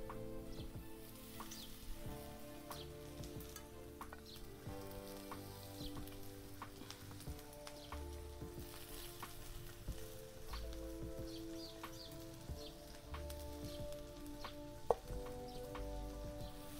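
Wild greens (ghaturle ranbhaji) tipped into onions already frying in a pan, giving a steady, even sizzle with faint stirring and rustling throughout and one sharp clink near the end.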